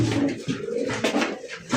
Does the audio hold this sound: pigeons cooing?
yes